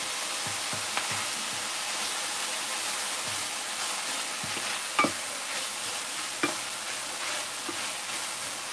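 Egg cubes fry with turmeric and cumin in a continuous close sizzle, broken by a few clanks and scrapes as a spatula stirs the pan, with no voices.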